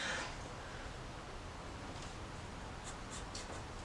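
Pen sketching on paper over an iskn Slate 2+ drawing tablet, faint scratchy strokes with a few short distinct scribbles near the end, close and quiet.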